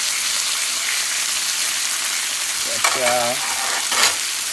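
Chicken on a grill gives off a loud, dense, steady sizzle like heavy rain, with a short spoken exclamation and a clink near the end.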